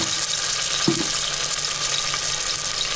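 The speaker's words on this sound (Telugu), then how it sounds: "కొంత నూనె వేడెక్కిన తర్వాత అల్లం వెల్లుల్లి పేస్ట్ వేయండి." Ginger garlic paste sizzles in hot oil in a pan, a steady close-up frying hiss that runs without a break, with one brief clatter near the start.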